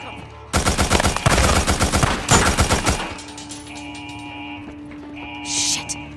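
Rapid automatic gunfire in the video game Days Gone, two loud close bursts of quick shots lasting a few seconds, followed by a quieter background hum.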